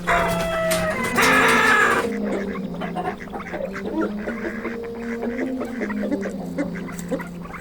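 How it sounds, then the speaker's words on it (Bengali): Ducks and chickens on a small poultry farm, a continuous chorus of nasal quacking and honking, loud at first and then a little softer. "একটা ছোট মুরগির খামার, যেখানে মুরগি হাঁস রয়েছে।"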